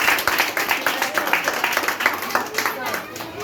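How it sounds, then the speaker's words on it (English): Clapping for the principal at a basic school graduation, uneven individual claps from a modest audience that rise and fall in loose bursts, fairly close and moderately loud. "Give another clap for our principal."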